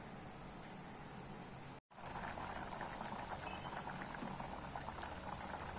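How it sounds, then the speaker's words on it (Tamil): Curry of black-eyed peas base bubbles steadily at a rolling boil in a pot, a constant close gurgling broken only by a brief moment of silence. "நல்லா கொதிக்கட்டும்."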